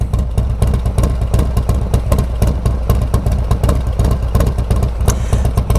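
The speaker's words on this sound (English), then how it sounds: "Listen to that idle chop." A Harley-Davidson Street Bob with a 114 engine, S&S 475 cam and Cobra El Diablo 2-into-1 exhaust idles close by, its loud, lumpy, uneven chop pulsing steadily with no talking.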